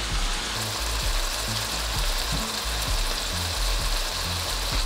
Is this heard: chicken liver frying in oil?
yes